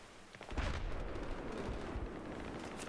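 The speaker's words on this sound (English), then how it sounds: "It's another mortar." Mortar fire in Battlefield 3 on the Grand Bazaar map: a heavy boom rises at once and rolls into a sustained low rumble with further thuds, near and loud, with no voices.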